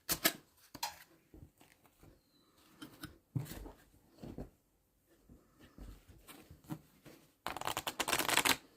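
Playing cards are shuffled and riffled in quick, crisp bursts, with small taps and flicks between, ending in a longer fluttering riffle.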